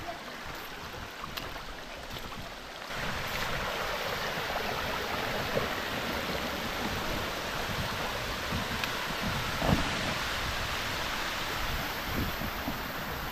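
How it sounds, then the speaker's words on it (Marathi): A small waterfall in the nature around Aliba gives off a continuous, even rushing of falling water, moderately distant and steady throughout, with no talking over it. "फायनली सृष्टीने शोधून काढला आहे धबधबा"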